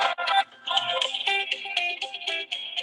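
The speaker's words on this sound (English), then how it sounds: "somebody's phone." A phone ringtone goes off during an online meeting, a bright repeating electronic melody of short pulsed tones sounding loud and close for the whole stretch.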